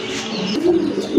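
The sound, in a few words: pigeons cooing at a pigeon farm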